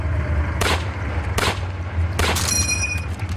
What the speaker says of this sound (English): Just shoot bullets! Nothing but shooting!